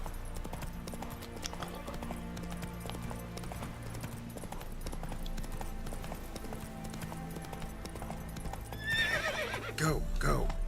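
Roach, the horse in The Witcher 3: Wild Hunt, gallops with steady, rapid hoofbeats throughout, then lets out a loud neigh near the end, with game music and effects running underneath.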